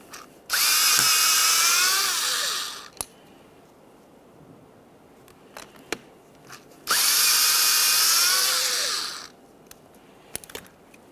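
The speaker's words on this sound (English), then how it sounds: "This is held in place with 3 8mm head mounting bolts. Let's go ahead and start removing those." A cordless power tool whirs loudly up close in two bursts of about two seconds each, backing out 8mm mounting bolts from a rear window regulator motor on a 2009-2014 Nissan Maxima, with small metallic clinks between the bursts.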